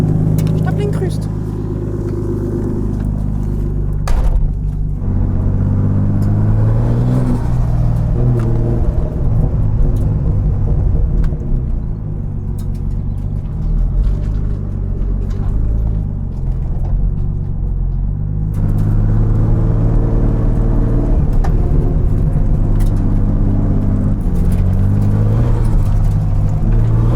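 Car engine droning and revving through a long drifting run, a loud, close rumble that swells and eases over and over, with a voice talking over it at times.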